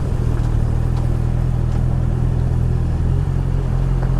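A 2022 Honda CBR 650R BS6 motorcycle cruises in sixth gear at low speed with a steady, loud engine drone and wind rumble and no voices.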